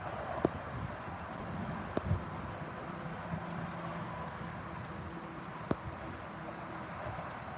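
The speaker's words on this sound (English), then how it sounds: "the wind is blowing like crazy" Strong wind blows outdoors on a cool day, a constant rushing roar with buffeting on the microphone and a few faint knocks, with no talk.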